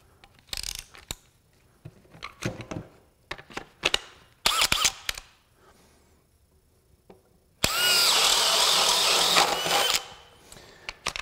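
A DEWALT DCD999 cordless drill running on a 20V 5.0 Ah battery fires in several short whirring bursts with ratcheting clicks between pauses, then bores in one sustained, loud, strained stretch near the end.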